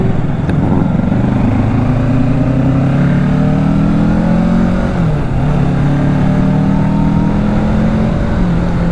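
A 2024 Kawasaki Ninja 650 engine roars loud and close, its pitch climbing steadily through the revs with a slight dip and recovery, continuous and with no voices.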